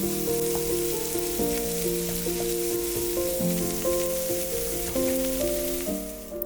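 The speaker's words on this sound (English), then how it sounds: "Let's add the onions to the bacon." Onions fry with bacon in a pan, a soft continuous sizzle heard close up beneath gentle background music, steady throughout with no talking.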